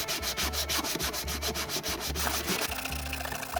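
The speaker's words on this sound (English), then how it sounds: "we're going to sand down all of these wooden parts, get rid of all that mould" Sandpaper rubbed by hand over wooden parts of a model tugboat to clean off mould, steady rhythmic back-and-forth scratching strokes, close and clear, with no talking.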